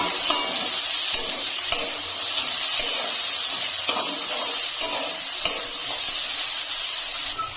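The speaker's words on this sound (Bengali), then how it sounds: "ক্যাপসিকাম একটু নেড়ে নেব।" Capsicum stirred in a hot frying pan, a steady close sizzle with light, regular scraping clicks from the spoon.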